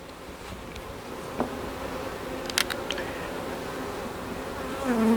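Honeybees hum steadily and fairly softly during a hive frame inspection of a three-deep, eight-frame hive full of brood, with faint clicks and handling knocks from the work.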